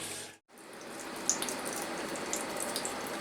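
Water pouring steadily over grain while sparging during a home beer brew, a continuous close hissing trickle after a brief break at the start, with a few small splashes.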